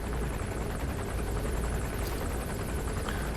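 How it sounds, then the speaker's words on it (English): A helicopter in Metal Gear Solid 5 drones steadily with a dense rotor wash, holding loud and even throughout with no voices over it. "And the helicopter's coming back too."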